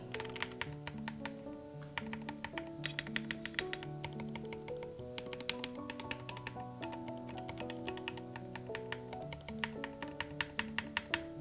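Fast, steady typing on a FreeBird60 mechanical keyboard, close up, a dense run of crisp clacks with a loud, prominent spacebar thud standing out among the keystrokes.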